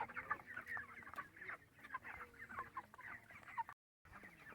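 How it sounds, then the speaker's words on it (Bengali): Chickens at a poultry farm of about 2000 birds cluck softly and intermittently while eating, several hens close by against quiet barn ambience. "এই যে খাবার মুরগিরা খাচ্ছে"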